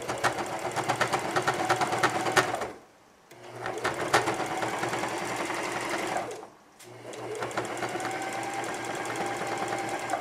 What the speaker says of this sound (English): If you're going to use a stretchy decorative top stitch, don't rush the machine.